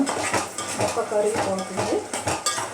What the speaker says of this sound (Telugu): మనం మధ్య మధ్యలో ఒక్కోసారి కూరను కలదిప్పుకుంటూ ఉండాలి